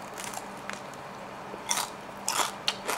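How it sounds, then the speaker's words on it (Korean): Quiet crisp crunching bites into crispy salt-grilled fish, a few soft ones and then several louder crackly crunches close to the mic, with no talking. "바삭바삭하게 먹을게요."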